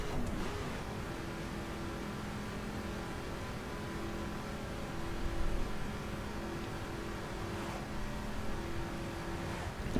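A 2005 Ford GT's engine drones and revs in the racing game The Crew, a continuous mid-level motor hum that swells in gentle surges with no speech over it.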